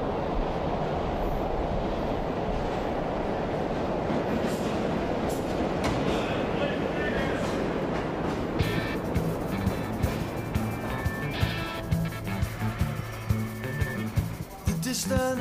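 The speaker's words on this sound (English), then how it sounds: "I feel like I'm in a tube station." Rumbling underground train noise, a steady broad roar like a tube station, opens a song and then gives way to the music.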